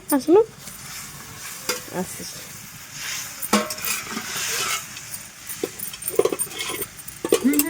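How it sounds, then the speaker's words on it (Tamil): Fish dropped into a hot pan for an Odisha-style fish curry sizzles and crackles at close range, with sharp clicks and clatters of a spatula stirring the pan now and then. "இப்போ வந்து மீனை நம்ம போட்டுடலாம்"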